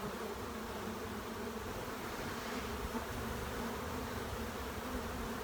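A honeybee swarm hums and buzzes continuously during a swarm retrieval in Florida, a dense, even drone of many bees heard close and alone with no talking.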